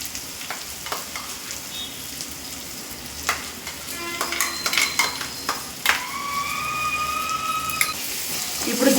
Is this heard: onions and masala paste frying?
yes